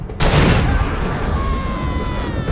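A liquid propane tank shot and exploding in Far Cry 2, a single loud close blast that lands abruptly and rolls on into a long roaring, crackling fire with a faint tone inside it.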